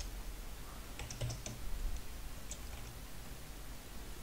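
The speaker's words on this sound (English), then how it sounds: "So I'm just going to type in set" A computer keyboard clatters with a few quick, faint keystrokes in short bursts against a quiet room hiss.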